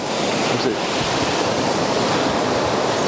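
Ocean surf washes steadily onto the shore of Kakolam Beach, a hidden beach in Goa, a continuous broad rush of water with no pauses, close and fairly loud.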